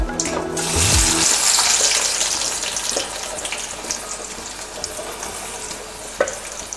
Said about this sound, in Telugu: ఆయిల్ కాగిన తర్వాత ఆనియన్స్ వేసుకుంటున్నాను.